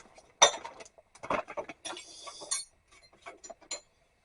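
Metal Craftsman wrenches, long 9/16 and 5/8 sizes, clink and clatter as they are picked up and handled. Bright, close metallic chinks come in short irregular bursts with quiet gaps, and there is no talk.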